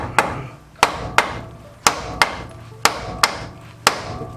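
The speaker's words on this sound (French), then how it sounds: "un petit coup de marteau qui fait plaisir." Hammer blows ring out during a clutch change on a Peugeot with a TU5JP4 engine, eight sharp metallic strikes at a steady, slightly uneven pace, close and loud in a quiet garage.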